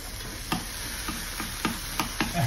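Monjayaki is stirred and chopped on a hot griddle in Japan, with a steady sizzle broken by rhythmic clacks of a spatula about every half second.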